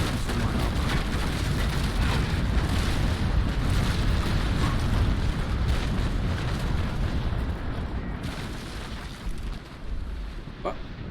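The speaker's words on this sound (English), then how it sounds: "The Victor's gonna fire one or two more broadsides before we get out of range or his firing arc" Rumbling cannon broadsides from a ship of the line in the naval combat game Naval Action, a dense, continuous roar of booming fire that thins slightly near the end, with talk over it.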